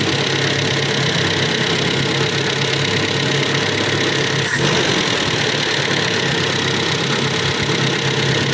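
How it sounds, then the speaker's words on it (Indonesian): Toyota Kijang engine idling steadily after a tappet and combustion-chamber repair, a continuous mid-pitched running hum with no obvious misfire, close and alone. "Ini mesinnya sudah nggak pincang kayak kemarin ya"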